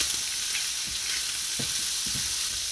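Shrimp seasoned with salt and paprika fry in a pan with a steady, close sizzle, while a few soft scrapes and clicks of stirring come through now and then.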